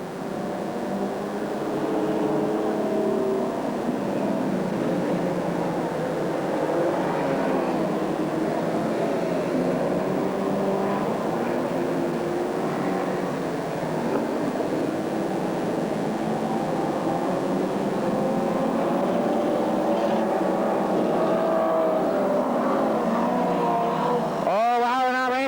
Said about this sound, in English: I don't think the gearbox can handle too many more laps there, John.